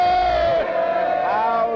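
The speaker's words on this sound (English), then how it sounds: "All the cheering is over now." Crowd noise at a 1966 British general election results night, a dense roar of voices and whoops, loud and close, sustained throughout with a few rising shouts.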